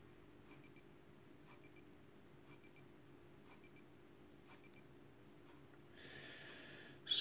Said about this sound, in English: when it reaches zero there will be a 5 second alarm to show us that the designated time has been reached